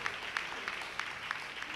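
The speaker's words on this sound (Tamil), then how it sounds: "நல்ல ஒரு கைத்தட்டு கொடுக்கலாமா ஆண்டவருக்கு?" Church congregation clapping hands in praise during a Tamil service, a fairly faint, steady rhythmic beat of claps at roughly regular intervals.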